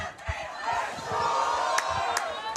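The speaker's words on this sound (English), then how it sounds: "Listen to that crowd. They are excited." A rugby match crowd cheers and roars with excitement, a loud, sustained wall of voices with whoops and shouts surging through the short stretch.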